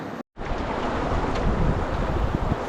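Water rushing over small river rapids, a continuous close broadband roar with a brief dropout near the start, outdoors during a canoe trip in Algonquin, with no talk.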